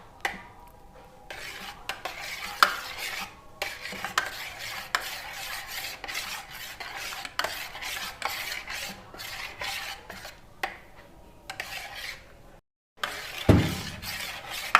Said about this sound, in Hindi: ये देखें कितनी अच्छी ये बीच में मिक्स हो गई है क्रीम।